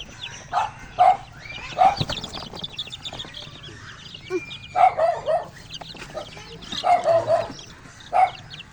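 Chickens, among them the youngest incubator-hatched black chick, are let out of a newly built coop one by one, giving scattered clucks and squawks in short bursts while a dog barks nearby.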